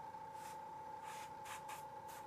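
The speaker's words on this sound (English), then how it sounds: "I'm gonna spray just a little bit of this red oxide just to have some difference, kind of in the low areas there." Short bursts of red oxide paint from a spray gun onto a walleye fish mount, four or five quick hissing puffs over a steady high whine from the compressor or airbrush.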